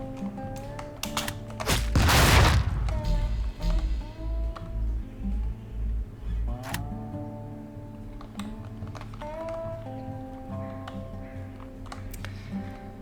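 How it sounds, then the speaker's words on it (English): A large explosion erupts in the Tastee: Lethal Tactics video game, a loud broadband blast with deep rumble, set among sharp clicks, metallic game effects and scattered shorter bursts that follow at lower level. "Big explosions will also do."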